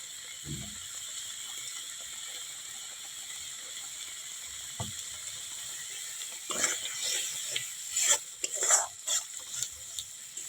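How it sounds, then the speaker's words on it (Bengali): Spice paste fries in a pan for a paneer dish, a faint steady sizzle with a few isolated knocks, then a burst of scraping, clattering stirring toward the end. "মশলাটা ভালো করে ভেজে নেব, কাঁচা গন্ধটা যাওয়ার তো"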